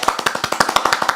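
A group claps together in a quick, even rhythm, about a dozen crisp, loud claps in close succession with no talking.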